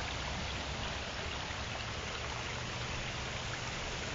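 Water running down a discharge channel at a battery construction site and into a creek, a steady, close, unbroken rushing wash.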